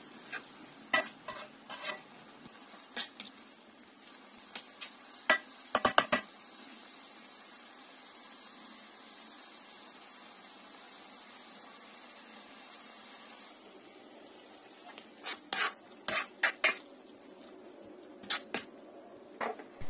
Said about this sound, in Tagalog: simulan na natin ang paggisa ng bawang, sibuyas, luya at kamatis